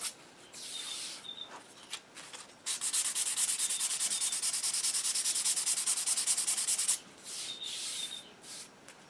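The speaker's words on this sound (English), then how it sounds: "it's still going to get sanded down." Steady rhythmic sanding of an air rifle's wooden gun stock with 220-grit paper, a dry rasping scrape rubbing back and forth, with a louder sustained stretch in the middle.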